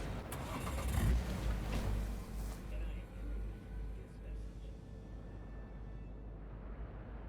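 A car in the video game Cyberpunk 2077 pulls away with a rising engine rumble that settles into a steady drone, fairly loud and close, with game sounds around it.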